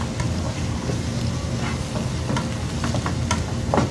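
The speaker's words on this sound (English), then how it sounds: "And then just gonna stir this up." Eggs with vegetables are stirred in a hot pan with a constant sizzle and scattered sharp scraping clicks of the utensil, fairly loud and close, with no talk.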